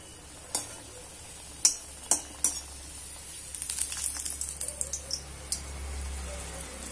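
Matar kachori fries in hot oil with a soft, steady sizzle, broken by several sharp clinks of a utensil against the pan.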